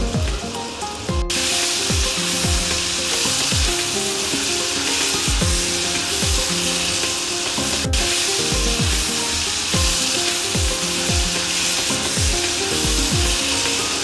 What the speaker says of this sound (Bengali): এবার জল দিয়ে মশলাগুলো ভালোভাবে মিশিয়ে ভালো করে ঝোলটাকে কষিয়ে